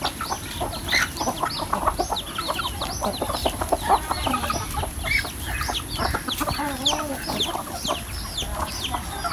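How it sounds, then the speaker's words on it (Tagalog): Pet chickens at a home in the Philippines cluck and call over and over, several birds close by making short overlapping squawks against a constant outdoor hiss, with no talking. "Tapos ito yung ating mga alagang manok."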